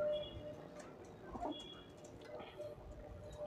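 Pigeons cooing faintly at a pigeon seller's place in Beldanga, soft low coos scattered among quiet background noise and clatter, no voices on top.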